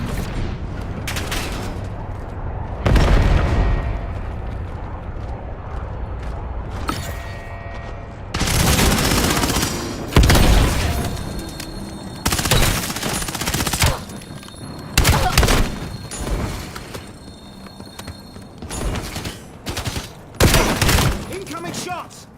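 Frag grenade blasts and bursts of gunfire in a video game battle, with loud broadband bangs and rattling volleys repeating through the stretch, some sharper shots layered over sustained fire.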